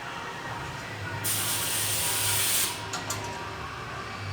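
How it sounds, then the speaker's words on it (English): A carbide ring grinding machine runs on a reloading-equipment factory floor: a low mechanical hum breaks into a loud, sharp hiss lasting about a second and a half, followed by two quick shorter hisses. "So this is our carbide ring grinding machine."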